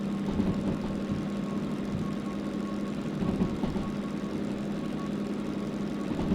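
DM3 locomotive engine in Derail Valley running at high revs, a steady, droning low rumble with a faint knocking texture, constant and close with no pauses.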